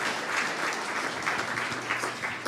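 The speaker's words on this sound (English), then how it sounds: "let's give her a round of applause here" An audience at an inclusive NPC live-streamed session gives a speaker a round of applause, steady, moderately loud clapping from many hands with a gently pulsing texture and no talking over it.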